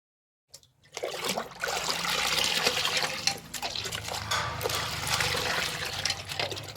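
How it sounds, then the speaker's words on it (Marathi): Water with Dettol antiseptic and Nirma detergent powder mixed in, poured and splashing steadily into a container at home, a continuous trickling wash that starts abruptly and runs close to the microphone with no talk. "मी पाण्यामध्ये डेटॉल आणि निरमा टाकून घेतला."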